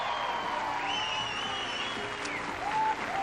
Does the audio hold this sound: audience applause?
yes